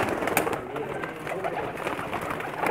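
Lakha pigeons coo softly and repeatedly close by on a rooftop in Pakistan, their low burbling calls overlapping against a faint background hiss.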